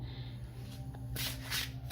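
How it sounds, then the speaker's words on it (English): A borderless tarot deck with a pagan cat theme is shuffled by hand, giving a soft, brief riffle of card edges over a low steady hum, fairly quiet and close. "It shuffles very well."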